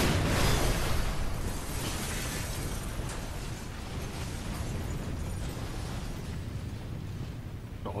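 A shot-down helicopter explodes in the video game Resident Evil: Operation Raccoon City, bursting into a loud, dense roar that holds as a sustained rumbling wash for several seconds and eases off slightly toward the end.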